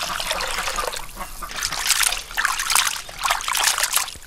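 Clean water is poured into a bowl of raw chicken feet for soaking, an uneven trickling and sloshing that comes in surges, close and fairly loud, with no talking.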